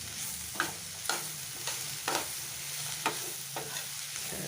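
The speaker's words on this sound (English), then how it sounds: "Stir it well." Tenli and black chana sizzle in a pan while a spoon stirs them in repeated scraping strokes, roughly one per second, close and steady under a constant frying hiss.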